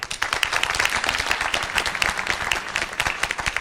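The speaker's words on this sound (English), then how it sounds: "You are allowed to clap. Let us clap" A live theatre audience bursts into clapping for a stage-to-screen staging of Shakespeare's A Midsummer Night's Dream, dense and steady hand claps filling the room at close range with no voices over them.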